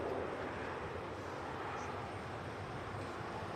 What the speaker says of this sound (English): An A320 Neo just touching down under EasyJet.